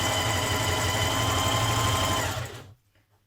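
A sewing machine runs steadily, stitching lines of gathering along a blouse frill, a close, even mechanical whir that holds for over two seconds and then winds down and stops.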